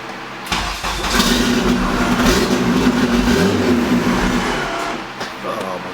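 A Honda K24 engine swapped into a Toyota MR2, running without its idle air control valve, cranks and fires, then settles into a loud, uneven rough idle that holds steady for several seconds before easing off.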